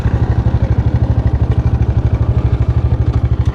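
A motorcycle engine runs steadily on a mountain road trip toward Sajek, its rapid, even low thrum pulsing with a faint clatter, loud and close, with no talk.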